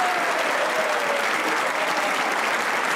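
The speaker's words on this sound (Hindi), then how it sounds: "तो उनके लिए भी तालियां होनी चाहिए" A studio audience at a comedy talk show claps in one loud, sustained burst, a thick even wash of many hands clapping that holds steady from start to finish.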